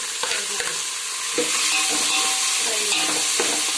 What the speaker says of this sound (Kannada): ಆ ನಂತರ ನಾವು ರೆಡಿಯಾಗಿ ಇಟ್ಕೊಂಡಿರುವ ಅಲ್ಲ ಮತ್ತು ಈರುಳ್ಳಿ, ಮೆಣಸಿನಕಾಯಿ, ಟೊಮೆಟೊ, ಗೆಜ್ಜರಿಯನ್ನು ಅದರಲ್ಲಿ ಹಾಕಬೇಕು.